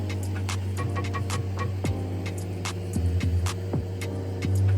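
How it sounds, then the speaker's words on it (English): A large-bead construction 3D printer with big hoses runs steadily, giving a constant low mechanical hum with faint ticks and occasional short sliding whines over a busy background, with no voices. "we're feeding it to the printer, and the printer's going through and implementing it"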